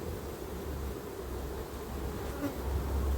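Honey bees swarm over a frame of emerging brood in a hive, making a steady, dense, close buzz that holds throughout with only slight swells in loudness.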